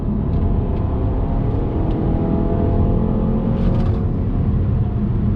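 A 2021 Buick Envision compact luxury SUV accelerates uphill out of a right-hand bend, its engine giving a steady, close, even drone under throttle with no talking.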